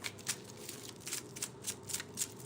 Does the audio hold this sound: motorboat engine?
no